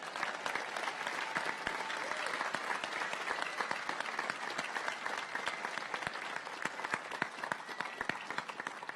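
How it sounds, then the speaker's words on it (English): A large crowd at the Indianapolis 500 public drivers meeting gives a sustained round of applause, a steady, even patter of many hands that stays moderately distant and alone. "And would you join me in a round of applause for Gilles de Ferran?"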